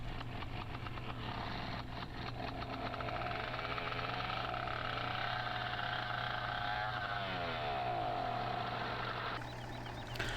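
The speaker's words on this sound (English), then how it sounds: "So that noise you heard there, that two-stroke engine, is what's called a pony engine." A two-stroke pony engine on a metal-tracked tractor in Farming Simulator 17 runs steadily through the whole stretch with a loud, buzzing, uneven idle and a constant low drone.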